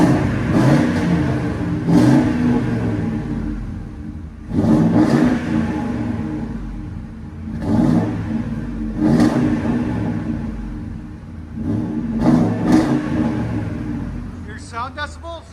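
A 2000-2005 Ford Excursion with a 5.4L V8 and aftermarket Flowmaster exhaust revs repeatedly, each loud throaty surge rising and falling in a steady rhythm against a constant idle rumble.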